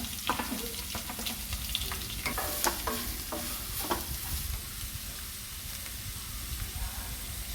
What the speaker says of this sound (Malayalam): ഇനി ഇതിലേക്ക് ഞാൻ ആ തേങ്ങാക്കൊത്തിട്ടൊന്ന് ഒന്ന് മൂപ്പിച്ചെടുക്കാം ഇതിലേക്ക് ഞാൻ കൊച്ചുള്ളി അരിഞ്ഞ് വെച്ചുകൂടെ ചേർത്ത് കൊടുക്കുകയാണ്